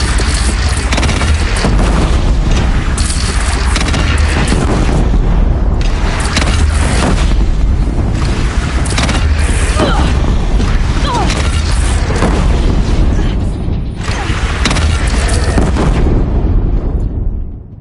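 Heavy booming cannon blasts and rumbling explosions fill a loud, dense battle scene in the video game Horizon Zero Dawn, with faint shouting mixed in throughout.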